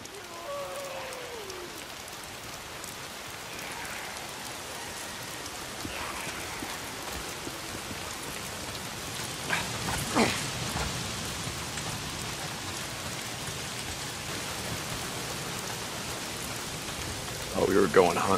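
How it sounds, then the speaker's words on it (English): Heavy rain pouring in the video game Days Gone, a steady, dense hiss of rainfall throughout with faint tonal game sounds and a few louder bursts, growing a little stronger near the end. "Well, not if it's pissing down rain."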